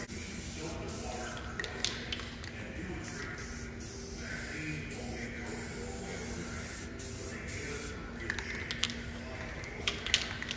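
Rust-Oleum Custom Blue Chrome spray paint hisses from an aerosol can in short repeated bursts as the nozzle is pressed and released, close and steady over a low background hum.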